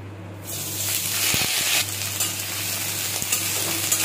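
Potatoes and cauliflower stalks fry in hot mustard oil with black cumin and dried chilli, a steady loud sizzle broken by a few scraping stirs of the spatula, close and continuous.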